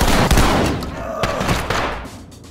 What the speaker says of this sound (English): Is that you guys shooting?